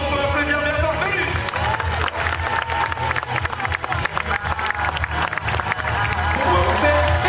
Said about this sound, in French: je pense qu'on peut applaudir bien fort Vénus